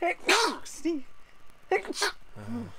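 A person sneezes once, loud and close, among people talking in a conversation.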